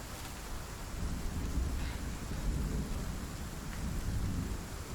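Thunderstorm with heavy rain in the video game Icarus, a dense steady hiss of rainfall over a low rumbling thunder bed, continuous and fairly loud with no voices.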